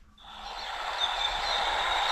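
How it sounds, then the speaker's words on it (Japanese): A steady, hissing rush of a recorded babbling stream played through a speaker inside a camping trailer at its loudest volume, heard from outside the door, smooth and continuous. "こんな感じでせせらぎが外にも聞こえるようになってますね"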